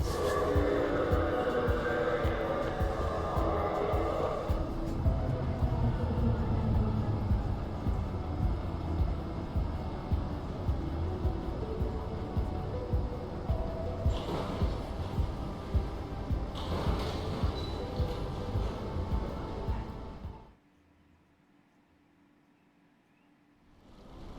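A loud, steady rumble of a train ride in the Lacuna video game, with rattling mechanical clatter throughout, which cuts off abruptly near the end into near silence.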